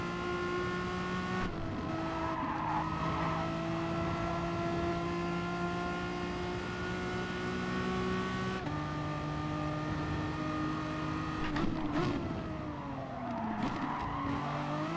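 A race car in Gran Turismo holds a steady high engine note, with gear shifts and squealing tires in the closing seconds, all loud and close.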